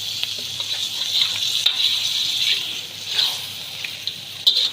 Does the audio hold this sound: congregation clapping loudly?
no